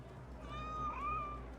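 A single drawn-out cat meow rising and falling in Assassin's Creed Origins, over a low steady game ambience.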